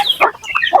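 Newly hatched chicks give a few high, short peeps and chirps, three quick bursts close by within under a second, with no talking.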